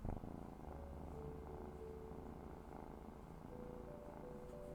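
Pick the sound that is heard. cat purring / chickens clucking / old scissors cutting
cat purring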